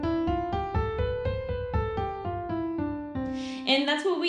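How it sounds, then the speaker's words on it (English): Piano plays a stepwise scale of about fifteen evenly spaced, clear notes, each struck tone ringing into the next, close and alone, with a brighter smeared flourish near the end. "if I use the piano as an example, my scale would sound like this"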